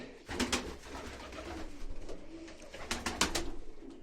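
Homing pigeons coo in a loft, including a white homing pigeon, giving soft repeated throaty calls that swell and fade close by, with some louder bursts of coos near the end.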